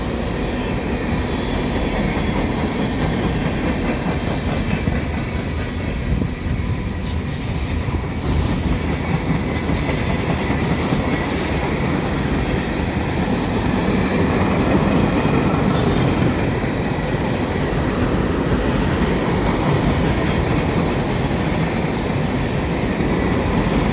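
A CN westbound mixed freight train rolls steadily under highway ramps at Dorval, a loud continuous rumble with faint wheel squeals and rhythmic clatter lasting throughout, close by and unbroken.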